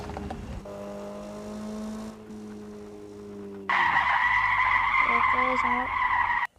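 A car drifts in a video game, its engine droning at first before loud, sustained tire screeching takes over for the final few seconds.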